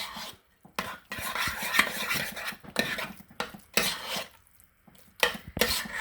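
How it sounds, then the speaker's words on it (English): A spoon scraping and clacking against a bowl in quick bursts while potatoes for a hash brown casserole are mixed with salt and pepper, close and clear, with short pauses between strokes. "we're just now going to mix that all together really well"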